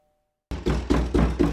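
Four solid knocks on a door, loud and close, arriving in an even rhythm after a brief silence.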